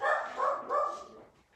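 Dogs bark from upstairs in a house, three short muffled barks in quick succession that trail off, fairly loud but dulled by distance.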